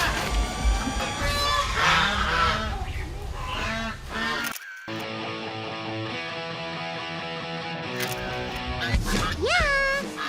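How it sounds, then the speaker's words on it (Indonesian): Territorial geese honk loudly and repeatedly in sharp nasal bursts that overlap throughout, with a motorbike setting nearby and people talking at moments. "Ya, dia adalah angsa atau disebut juga suang."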